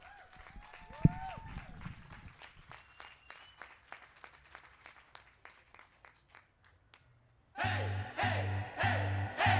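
An audience at a California Cinco de Mayo celebration applauds a band. Brisk clapping gradually thins and fades to a few scattered claps, then loud band music starts abruptly near the end.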